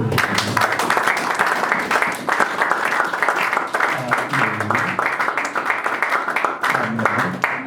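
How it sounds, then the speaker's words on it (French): A church congregation claps and cheers loudly and continuously, a dense wash of applause with voices calling out over it throughout. "Acclamons très fort."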